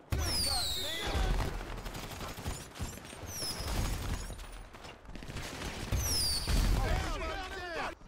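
Gunfire in GTA V, with bursts of rapid shots and ricocheting whines in two main volleys, loud and close, with people talking over the shooting.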